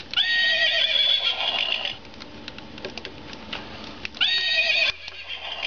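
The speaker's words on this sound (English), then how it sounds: "It runs on four little watch batteries and just makes some horse noises." Battery-powered 2006 Barbie show horse toy playing two recorded whinnies, separated by a few seconds of faint clicking and clip-clop sounds, thin and electronic in tone.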